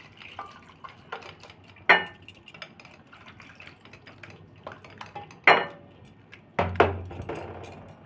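Water is poured over raw mangoes sitting in a strainer for mango nadu, with faint trickling, soft drips and a few sharp clanks of metal utensils against the bowl, close by and without voices.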